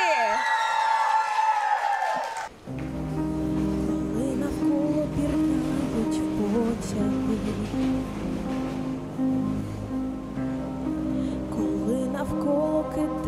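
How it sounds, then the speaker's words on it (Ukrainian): Festival crowd at the Black Sea Games semifinal cheering and applauding a guest singer, a broad roaring wash of cheers and claps that swells in after a host's announcement and carries on under rising music. "Ваші оплески!"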